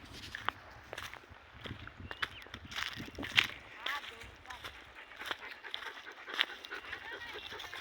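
A dog plays with a boy out on a farm field: faint scattered footsteps, scuffling and soft panting, quiet and irregular, with a few sharper knocks and some low background talk.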